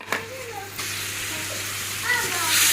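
Spices including cumin, coriander, turmeric and chilli powder with green chilli frying in hot oil, a steady close sizzle with light stirring scrapes, rising slightly toward the end.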